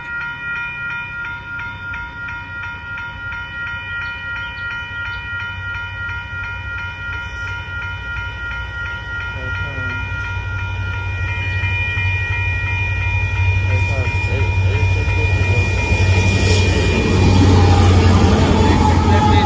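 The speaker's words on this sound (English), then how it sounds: "Now we got a northbound train rolling in now." A northbound Union Pacific mixed freight train rolls past the Dittmar Road crossing in Austin, Texas, loud and close. A sustained horn chord sounds over the rumble of wheels, and the noise swells as the train draws nearer.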